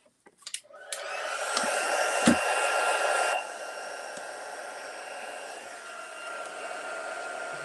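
A craft heat tool switches on after a few clicks and blows a loud steady hiss over Versamark embossing ink, then drops to a slightly lower, quieter setting and keeps whooshing close by.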